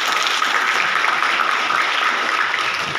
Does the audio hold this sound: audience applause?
yes